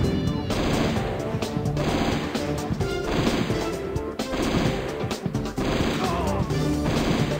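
Automatic gunfire in the Battalion Commander 2 video game, dense continuous crashing and popping shots mixed with game music and effects, steady and loud throughout.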